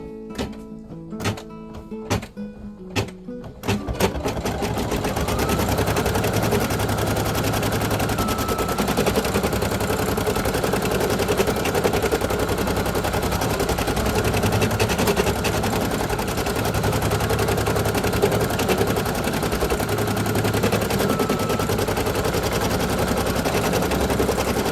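An embroidery machine runs a tack-down stitch through two layers of fabric. After a few isolated clicks it settles into a steady, loud, rapid mechanical chatter that holds without a break.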